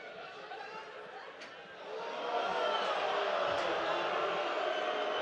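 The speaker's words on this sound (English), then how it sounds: "Crowd reacting to the replay on the screen" A stadium crowd at a USA defensive-line game murmurs and swells louder partway through as it reacts to an on-screen replay, a broad steady roar of many voices.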